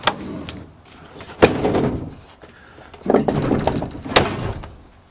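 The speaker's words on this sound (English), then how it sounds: "now we're gonna try to close the door properly" The door of an old van is opened and pushed shut several times, each try giving a loud thunk and rattle of worn metal, close by, with quieter handling noise in between.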